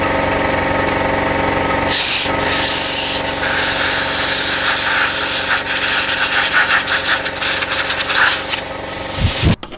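Compressed air blasts packed sawdust out of a broken DeWALT 60V Flexvolt table saw, a loud continuous hissing rush lasting nearly the whole stretch with a short break near the start and a sputtering finish.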